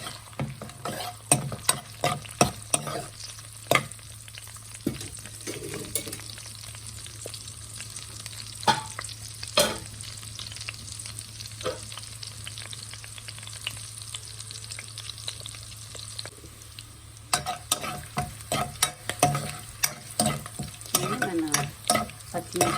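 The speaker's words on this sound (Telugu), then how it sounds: "అలాగే పచ్చిమిరపకాయలు అల్లం వెల్లుల్లి పేస్ట్ వేసి బాగా వేగనిద్దాము" Green chillies, bay leaf and ginger garlic paste fry in a pan for mutton keema biryani, with a steady close sizzle under frequent clacking spatula stirs throughout.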